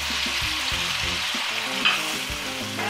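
Tomatoes with salt and chili frying for mash dal, a dense continuous sizzle overlaid with rhythmic scraping stir strokes every half second or so, close and fairly loud, no voices.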